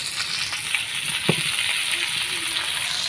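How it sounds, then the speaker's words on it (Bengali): Fish coated in ginger, garlic, onion paste, chili and turmeric frying in a pan on a clay village stove, giving a steady close hiss of oil with faint knocks from stirring. "আদা রসুন পেঁয়াজ বাটা মরিচ হলুদ আর বল মাছ এই ভাজতে আছো?"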